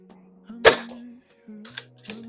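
A Victory CP2s PCP air pistol fires one sharp, close crack with a short ringing tail, set among low hums and small handling clicks; there is no talk.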